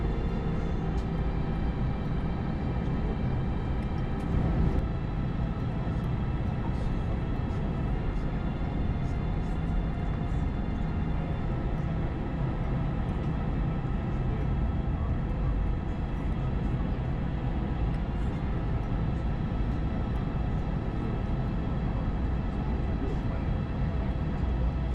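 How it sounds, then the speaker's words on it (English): Brussels Airlines jet taxiing to line up on the runway, heard from inside the cabin as a steady low engine rumble and hum that stays constant throughout. "we were already getting ready to line up on the runway for our departure over to Brussels"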